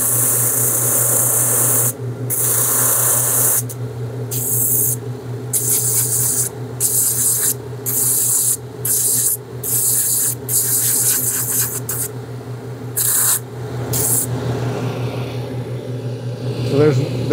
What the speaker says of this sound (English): The sander's just going to go ahead and buff the grain off so I can cement it.